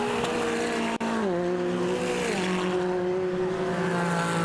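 GT race cars at speed on the Oulton Park circuit, a loud engine howl whose pitch climbs and drops through gear changes as a car passes close by, steady and dense throughout with no talk.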